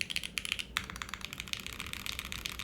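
Rapid typing on the number row of a Mode SixtyFive mechanical keyboard, a quick run of crisp clacky keystrokes close by at low volume, with no talking.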